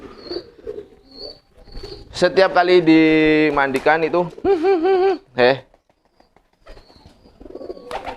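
Soft low homing pigeon coos come and go close by, with a person speaking over them throughout.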